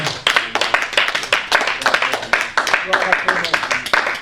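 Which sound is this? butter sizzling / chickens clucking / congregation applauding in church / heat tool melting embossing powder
congregation applauding in church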